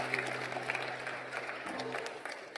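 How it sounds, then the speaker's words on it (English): An audience claps steadily, a dense patter of applause filling the short moment, with a low hum beneath. "Big round of applause."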